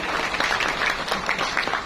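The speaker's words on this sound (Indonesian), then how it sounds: "Tepuk tangan sekali lagi buat kita semua." Warm burst of audience applause at the Jamkrida award ceremony, many hands clapping together in a dense, fairly loud patter that carries on without pause.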